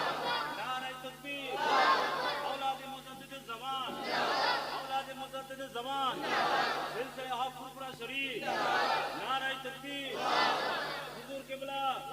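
A crowd at a religious gathering chanting "Zindabad" and "Takbir" in loud, repeated swells, each call rising and falling roughly every two seconds, with a leader's voice mixed in.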